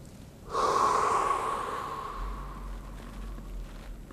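Deep breathing during a spine twist stretch: a sharp, loud nasal inhale followed by a long, steady exhale that fades gradually, heard alone and close.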